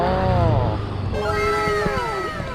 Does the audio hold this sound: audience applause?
no